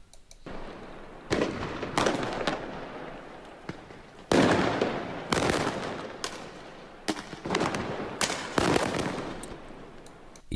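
Fireworks and firecrackers going off in the street during a night of rioting in Argenteuil, with repeated loud, sharp bursts and crackling volleys in irregular clusters, some close and some farther off.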